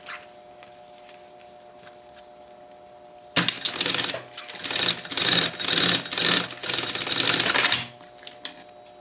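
A sewing machine stitches a seam about 2 mm from the edge of a backpack pocket, running in several short close bursts with brief pauses after a quiet start, with no talk.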